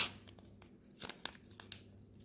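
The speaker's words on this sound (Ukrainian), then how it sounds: "ми зараз цей пакетик повністю його порвемо по кругу" A glued paper surprise packet being ripped open, with several sharp tearing and crinkling bursts spaced irregularly over a soft background, close and fairly quiet, no talking.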